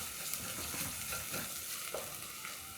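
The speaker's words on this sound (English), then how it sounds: "Then I'll cook my garlic until fragrant." Garlic frying in a pan for a Kenyan githeri recipe, a continuous soft sizzle with occasional light stirring scrapes, heard close and quiet with no talk.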